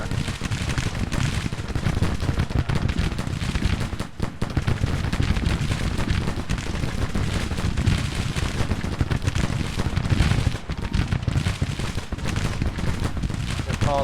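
Musket volleys crackle in a Civil War battle video game, loud dense bursts of gunfire overlapping continuously with distant booms beneath, and shouted voices breaking through the din.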